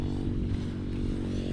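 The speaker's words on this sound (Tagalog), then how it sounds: "Ang astig ng motor niya, oh." A motorcycle engine runs close by with a steady, rough low drone that holds at an even loudness, on a street in Ilocos Norte.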